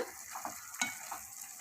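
Vermicelli upma is mixed in a pan, giving a soft, quiet sizzle with light scraping strokes and one brief clink of the spoon against the metal.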